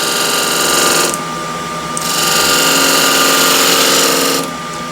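Wood bowl spinning on a lathe while a scraper cuts, giving a loud steady whirring scrape that drops briefly near the start and again at the end.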